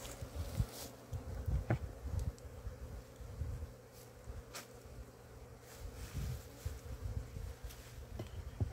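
Honey bees at an apiary hive buzz quietly as a steady low drone, with small bumps and clicks as the hive is handled nearby.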